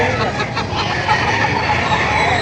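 Many roosters crow and cluck together at a livestock auction market in Padre Garcia, Batangas, a dense, loud, continuous chorus of fowl with crowd noise beneath.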